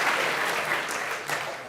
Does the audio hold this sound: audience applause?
yes